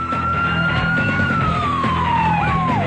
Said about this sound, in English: Fire engine sirens can be heard approaching, but Noel ain't waiting.